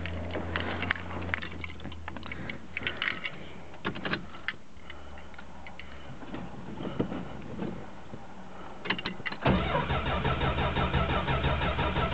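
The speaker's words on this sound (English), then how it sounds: "It's a 40-degree day here in Seattle, and I am about to cold start my 73 Dart." A 1973 Dodge Dart slant six is cold-started on a 40-degree day in Seattle. Irregular cranking and clatter build for several seconds, then the engine catches and settles into a loud, steady idle.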